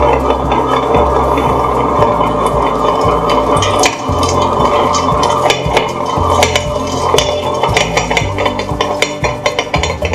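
A Spectra 11 stone grinder runs as it grinds peanuts into peanut butter, a loud continuous motor drone with rumbling, knocking stones and scattered clicks and clatter, heard close and steady with no voices.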